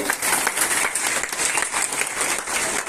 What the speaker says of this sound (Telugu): ఒకసారి బిగ్ క్లాప్స్ మేడం గారికి